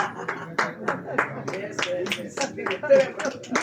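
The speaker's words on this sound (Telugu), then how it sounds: "అవసరమైనప్పుడు మనం దిగుమధురంగా చప్పట్లు శబ్దాన్ని ప్రయోగిద్దాము" An audience at a memorial meeting for Gidugu Ramamurthy claps in sharp, regular bursts that continue for several seconds, close and fairly loud, with voices mixed in.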